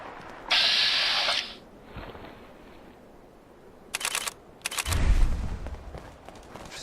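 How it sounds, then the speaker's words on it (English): A lone gunshot-like crack in Fallout 4 VR, sharp bursts of noise around the middle followed by a low thud, with a hissy electronic tone earlier and quiet gaps between. "I heard a gunshot."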